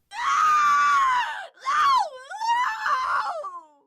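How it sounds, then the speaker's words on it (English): A woman screams in horror and disgust, a long high shriek followed by two shorter, wavering cries that break and fade, loud and close with no other sound. "Corey screams in horror and disgust."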